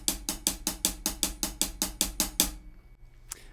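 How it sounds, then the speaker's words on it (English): Sixteenth-note ghost notes on a drum-kit hi-hat, hands alternating: about a dozen soft, evenly spaced ticks in a quick, steady run that stops abruptly, followed by near silence and one faint tap. "playing 16 notes on the hi-hat, alternating, playing just the ghost notes"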